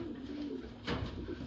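A racing pigeon, the race-winning pencil hen with white flights, gives a soft, close coo against faint background noise.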